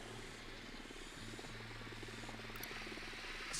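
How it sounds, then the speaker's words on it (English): A drone hovers overhead in the Ghost Recon Wildlands video game, giving a steady, low, buzzing rotor drone that holds even and continuous, with no talk over it. "The drone is up."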